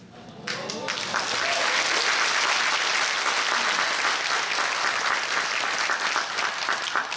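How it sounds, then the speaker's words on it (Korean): A lecture audience in Changwon breaks into loud, sustained applause: a brief speech fragment, then a full hall of clapping swells quickly and holds evenly, dense and close. "왜 박수를 치세요?"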